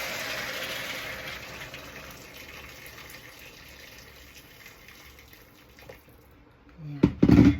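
Hot water poured into a cooking pot for pork sinigang with tamarind, a steady broadband pouring stream that runs for several seconds and fades, followed by a short clatter near the end.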